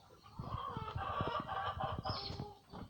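Chickens cluck steadily in a close, busy chorus of local birds on a sunny morning, with a rooster joining in with a crowing note near the end; no one speaks.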